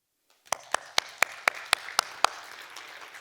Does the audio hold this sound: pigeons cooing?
no